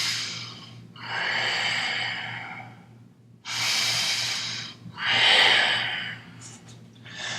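Slow, deep breaths drawn in and let out during a yoga stretch for sore legs, several long airy inhales and exhales close to the ear over a faint steady hum, with no talking.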